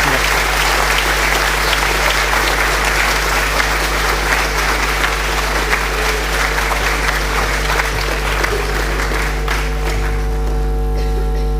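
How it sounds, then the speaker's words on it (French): A congregation at a solemn Sunday Mass applauds, sustained clapping from many hands over a strong low electrical hum, the clapping thinning out near the end as a held organ-like tone emerges. "on peut les applaudir"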